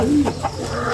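A pigeon gives a short, close, soft call, a brief tonal coo with a little clucking texture, heard alone without talk.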